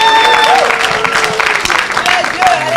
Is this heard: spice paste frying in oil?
no